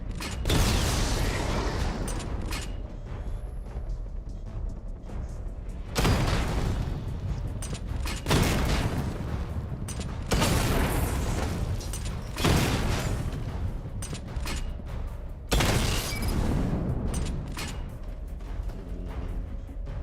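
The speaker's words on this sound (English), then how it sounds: "Charge the missile barrage to level 2 to destroy up to 4 targets at once." Missile barrage explosions in a video game arrive as several loud, heavy booming bursts at intervals, each with a sharp onset and rumbling tail, over a mechanical background hum, with no talk.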